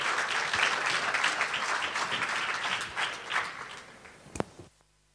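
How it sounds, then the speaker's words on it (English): Audience applause at an international energy contest, a dense, steady wash of clapping that thins and fades near the end, leaving a few sharp claps and near silence. "please support this team with a very, very warm applause"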